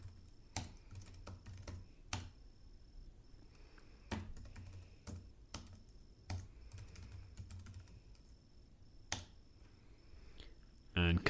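Personal details typed on a computer keyboard, a quiet run of irregular key clicks and taps with uneven pauses between them.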